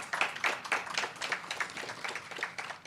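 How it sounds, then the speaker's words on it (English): Audience applause at an urban health mental health symposium, a steady patter of many hands clapping at moderate level, fairly close and continuous for the whole stretch, with no voices over it. "I want you to give yourselves a real round of applause for being here today."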